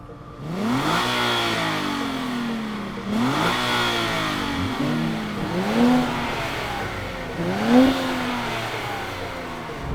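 Two sports cars, a 2023 Nissan Z and a 370Z NISMO, revving before a drag race: repeated rising engine sweeps roughly every two to three seconds, loud and close, with no speech.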